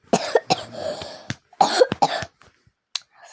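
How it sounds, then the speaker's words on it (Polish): Several harsh coughs come in quick bursts, close and loud, with a throat-clearing rasp between them and short silent gaps. "Ale mam kaszel."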